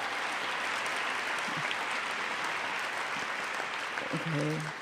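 An audience applauds enthusiastically at an event on being a public intellectual, with steady, dense clapping throughout and a voice breaking in briefly near the end.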